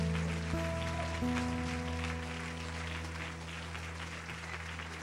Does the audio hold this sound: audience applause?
yes